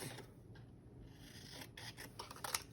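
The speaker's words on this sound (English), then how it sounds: "is even cut this in half" Scissors snip through a paper shape to split it into a half circle, giving soft rasping cuts that build into a few sharper snips near the end, close and quiet with no talking.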